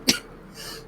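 A single sharp sneeze bursts out near and loud, brief and explosive, followed by a faint breathy tail.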